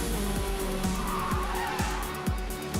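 A Ginetta GT race car at Donington Park slides and spins, tyres squealing and skidding under a steady, loud engine drone, with repeated sweeping tyre chirps across the track.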